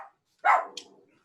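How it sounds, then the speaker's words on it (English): A few dogs bark in a single short burst: one loud bark followed by a sharper yip, then the sound fades quickly into quiet, close by with no talking over it. "Your dogs are kicking off."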